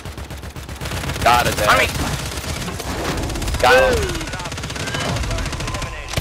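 Rapid automatic gunfire in the Warzone 3 video game, with bursts crackling over a busy, noisy game soundscape. Players talk over it.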